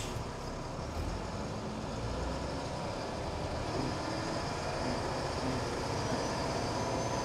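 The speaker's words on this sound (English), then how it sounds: "Let's take the LMTV for a drive." LMTV military truck driving, a steady low diesel rumble and road noise that hold constant and fairly close throughout, with no voices.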